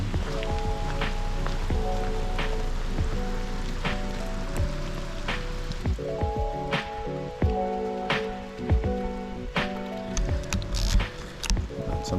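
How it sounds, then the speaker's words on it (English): Rain falling outdoors at a scenic overlook, a steady patter with sharp individual drops striking nearby surfaces, irregular and close throughout. "Oh yes, the rain."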